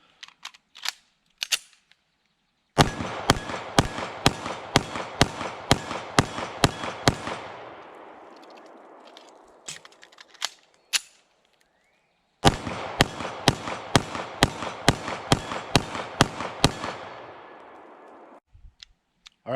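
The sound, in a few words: Browning Hi-Power 9mm pistol shots at targets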